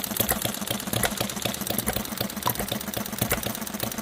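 An HM 01 Retrol model engine runs after months on a shelf, giving a close, steady, rapid mechanical chatter with a fast knocking rhythm and no talk.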